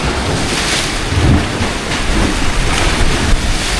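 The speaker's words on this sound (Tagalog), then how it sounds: "Sobrang hangin kasi." Strong wind blows at sea off Limasawa Island, a steady roaring gust noise buffeting the microphone with choppy waves and surf beneath, loud and continuous without a break.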